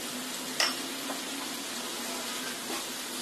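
Chicken frying in a pan with turmeric and ginger-garlic paste gives a faint, even sizzle, broken by a brief clink of a utensil stirring it. No one speaks.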